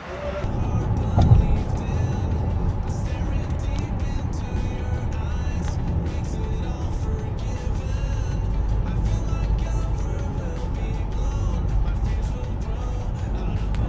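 An Opel Insignia Cosmo with a 170 hp engine drives along a town road, giving a steady, broad rumble of engine and tyre noise from inside the car that holds an even level throughout.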